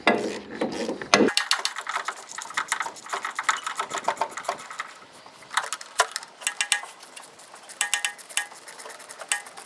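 Hand ratchet tightening bolts while fitting a fuel pump on a Jeep Willys engine, fast rapid clicking bursts up close, repeated in short runs with brief gaps and no talking.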